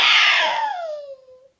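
A young child imitates a horse's whinny with one loud, close squealing cry that slides downward in pitch and fades out over about a second and a half.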